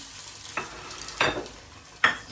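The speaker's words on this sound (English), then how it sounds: "So just fry it very slowly" French toast cooks slowly over reduced heat in vegetable cooking oil, with a soft low sizzle broken by three sharp scraping stirs of a utensil against the pan.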